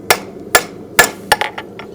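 A hammer strikes a horseshoe on a small travel anvil, with five or six sharp ringing blows at an uneven, quickening pace, close and loud.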